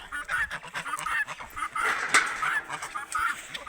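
Several geese honk repeatedly nearby, a noisy overlapping chorus of nasal calls that keeps going without pause.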